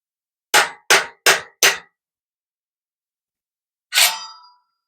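Sharp metal hammer strikes while pounding parts out of a 1963 Schwinn Tiger Middleweight bicycle: four quick evenly spaced blows, a pause, then one final ringing clang, close and loud in a quiet room.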